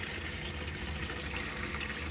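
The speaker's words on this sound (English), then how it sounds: "water's going out, water's being sucked into the boiler" Water being drawn into a Phoenix 642 boiler and pressurized, a steady, quiet rushing hiss that holds unchanged throughout with no voices.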